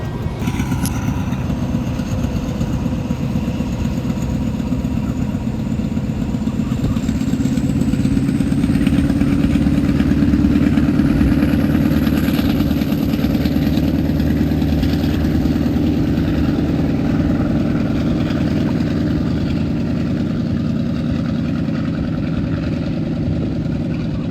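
A heavy Fiat railcar diesel engine idles and runs steadily, a deep rumbling chug with some clatter, loud and close throughout, swelling slightly in the middle.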